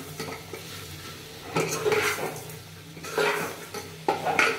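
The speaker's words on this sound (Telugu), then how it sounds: "ఒకసారి బాగా తిప్పుకొని" Fried dried-brinjal sour curry turned over in a metal pan, with repeated scraping and clinking strokes of a spoon against the pan coming in bursts, close and fairly quiet, over faint sizzling.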